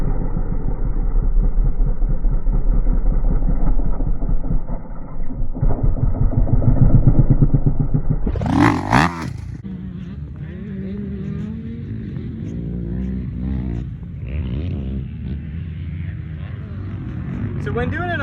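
Dirt bike engine during endurocross riding, a steady close idle that surges in a sharp rev burst, then settles into a rougher, lower running note with a rider speaking over it.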